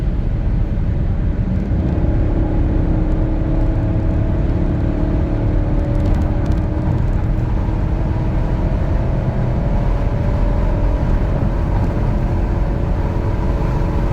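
A Dodge Durango R/T Hemi makes a steady, loud engine drone with rising tones as it accelerates through a top-speed pull, heard from inside the cabin with no talking.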